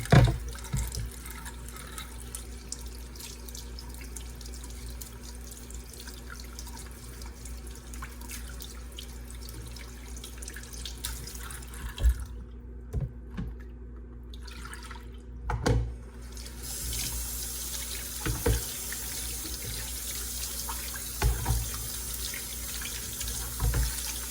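Tap water running steadily into a sink while salmon is washed, with a brief pause in the flow and occasional drips and handling splashes, close and continuous, no talking.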